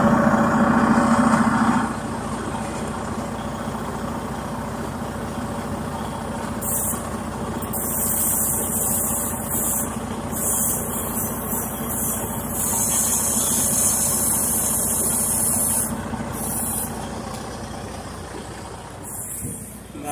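Air tanks on a truck being drained, with sharp hissing bursts of escaping air that start and stop repeatedly over a steady idling engine, nearby and fairly loud.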